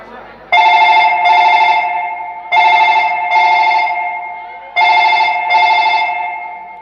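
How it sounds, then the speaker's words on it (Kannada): A telephone rings on an outgoing call: three loud, bright double-ring bursts with short gaps between them, heard on their own. "ಆದಷ್ಟು ಬೇಗ ನನ್ನ ಪ್ರೇಯಸಿಗೆ ಒಂದು ಫೋನ್ ಮಾಡ್ತೀನಿ"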